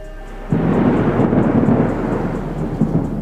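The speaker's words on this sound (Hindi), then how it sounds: "तूफान आने वाला है" An approaching thunderstorm breaks in with a sudden rumble of thunder followed by steady, heavy rain, loud and close, with no voices.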